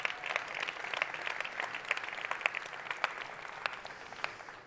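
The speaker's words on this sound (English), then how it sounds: "We can applaud them." Applause from a conference keynote audience in Lisbon, steady crisp clapping from many hands lasting throughout, moderately distant and without speech over it.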